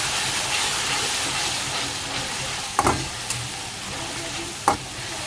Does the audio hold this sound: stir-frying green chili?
yes